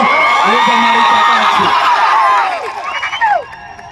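A large crowd of Adivasi people at a political rally marking Birsa Munda day cheers and whoops loudly, a dense roar of voices with shrill calls that fades near the end.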